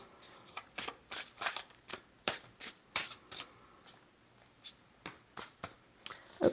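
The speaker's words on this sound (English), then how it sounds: "I finish shuffling when, I can just feel it with the cards that they're ready" Tarot cards being shuffled by hand in a series of quick riffling bursts, some short and some longer, close and fairly crisp, with brief pauses between them and no talking.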